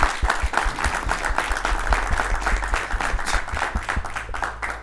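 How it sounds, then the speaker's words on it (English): A loud, dense round of applause from an audience at an event hosted by the New Zealand Embassy, steady, close crackling claps continuing for several seconds without letting up. "would you please give a round of applause to the New Zealand Embassy for hosting us"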